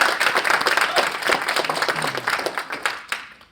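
Steady applause from an audience, many hands clapping together for a few seconds before tapering off at the end.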